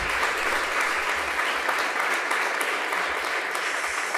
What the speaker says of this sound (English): Somehow I knew that line would get an applause.